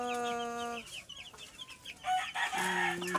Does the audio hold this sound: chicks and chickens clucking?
yes